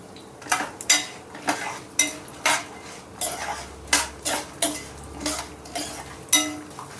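Repeated metal scrapes and clinks of a utensil stirring tempering spices frying in a pan for lemon rice, in a steady rhythm over a faint low hum, with no talking.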